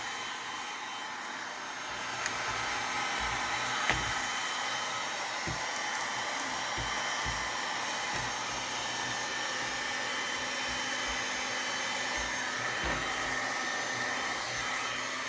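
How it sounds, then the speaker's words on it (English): Heat gun blowing steadily on leather work gloves, a constant faint whooshing hiss with occasional small taps and handling knocks beneath it. "these heat guns get pretty hot, so don't burn yourself"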